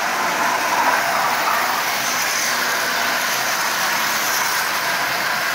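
Vintage Marx toy train locomotive, an A and B unit set, running on track at 60% power, giving a steady, fairly loud whirring hum with a rolling hiss that stays even throughout with no talking.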